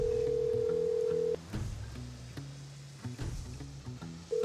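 A telephone rings during a magic trick filmed for a TV show. A long, clear electronic tone cuts off, then starts again after a pause. Quiet background sounds fill the gap between tones.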